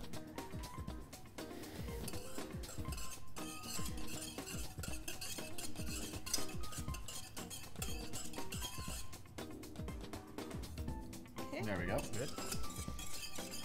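A spoon stirs lemon pie filling in a pot until the sugar dissolves, making repeated close scraping strokes and light clinks against the pan beneath an ongoing voice.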